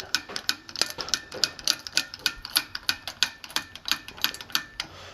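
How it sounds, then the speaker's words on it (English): A propane torch igniter clicking repeatedly without lighting, sharp rapid ticks in an uneven rhythm, close and fairly quiet, with no voices. "my propane won't ignite right now"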